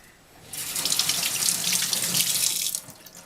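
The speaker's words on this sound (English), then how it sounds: "you seed them on the cold running water" Cold water running steadily from a kitchen tap into a sink while sweet chili peppers (ají dulce) are seeded under the stream, a close, continuous splashing hiss lasting a few seconds with no talk.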